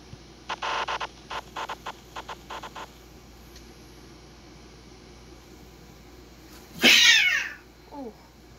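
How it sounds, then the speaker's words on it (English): A cat lets out one loud, sharp yowl close by, followed a moment later by a shorter, fainter cry, after a run of soft rhythmic tapping in a quiet room during a Fourth of July celebration. "Cat must have scared herself."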